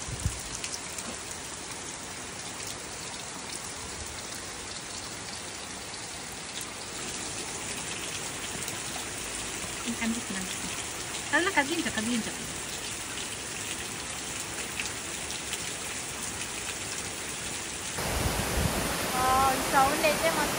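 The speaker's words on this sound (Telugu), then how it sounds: "సడన్ గా ఫుల్ వర్షం స్టార్ట్ అయిపోయింది." Heavy rain pours down in a forest at a green tea plantation in Korea, a dense, even hiss of drops striking leaves and ground, with a person talking briefly over it and the downpour swelling near the end.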